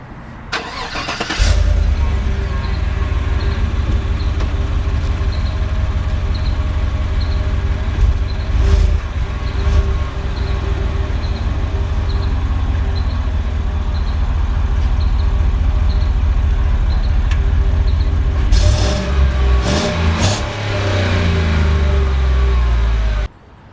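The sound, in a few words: GMC Yukon Denali cold start engine idling and revving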